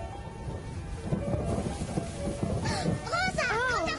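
Cartoon thunderstorm scene with rumbling thunder and steady rain noise throughout, overlaid by a cartoon voice speaking and whooping tonal sounds near the end.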